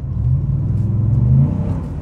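A Toyota Land Cruiser engine with about 500,000 km on it, running while driving low on fuel: a steady low rumble and drone with a slight rise in pitch partway through, close and loud, with no talk.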